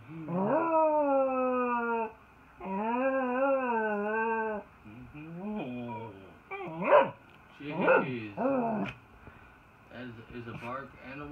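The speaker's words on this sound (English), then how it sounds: "That is a bark and a whine." A cocker spaniel whines and howls in long, rising, wavering cries, then breaks into short barks and whimpers, fairly close indoors, with a person talking softly at times.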